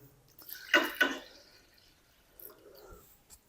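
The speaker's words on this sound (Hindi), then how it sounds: "इसके अंदर हम शामिल करेंगे तकरीबन 2 कप पानी" About two cups of water pour into a wok holding lentils for boiling, heard as a couple of close splashing gushes followed by faint trickles and drips.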